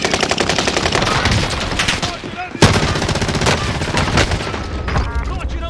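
Rapid, dense automatic gunfire fills a Warzone video game match, loud and continuous with overlapping bursts and one sharp blast, while game voice lines in Portuguese are heard through it.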